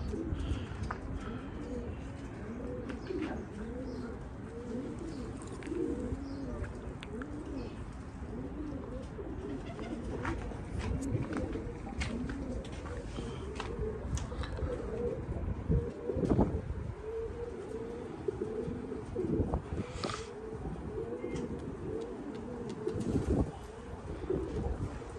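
Pigeons or doves coo repeatedly and steadily in the background, layered warbling calls continuing throughout with a little wind and occasional brief chirps.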